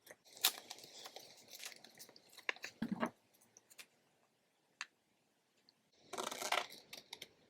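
Scissors snip through thin washi sticker paper in a handful of quiet, close, crisp cuts separated by pauses, with faint handling sounds and no talking.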